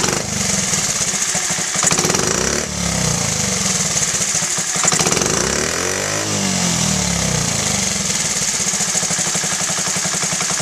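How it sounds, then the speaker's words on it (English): A Honda Z50A small motorcycle engine, freshly fitted with a cleaned and rebuilt carburetor, revs up on the throttle and settles back down repeatedly, loud and close with no talking. "Let's see if it'll bog when I hit the throttle."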